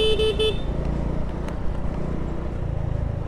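A car or motorcycle horn gives a few quick toots in busy street traffic, then engine and road noise carry on steadily under it.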